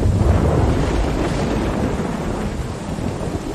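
Heavy rain pours steadily in The Walking Dead video game, with deep rolling thunder rumbling loudly through the downpour, a dense continuous storm with no voices.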